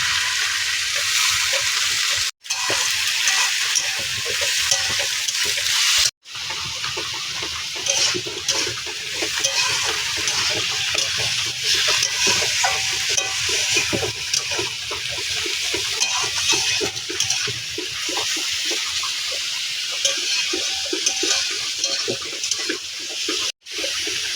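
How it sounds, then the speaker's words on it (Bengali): Capsicum, green peas and carrots fry in a wok, a loud, dense continuous sizzle and crackle with stirring textures, cut by brief sudden silences. "সবগুলো কড়াতে দিয়ে দেওয়া হলো।"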